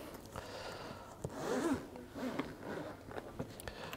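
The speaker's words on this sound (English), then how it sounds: "dual zips on there to make it nice and easy" A zipper is drawn open on a padded Wouxun ProPack radio carry case with dual zips, a close, quiet rasping pull swelling in the middle, with faint handling knocks around it.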